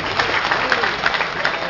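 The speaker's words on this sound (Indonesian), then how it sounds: "Tepuk tangan buat mereka dong." An audience at a concert applauds an ensemble with a dense, steady stretch of clapping while a voice talks over it.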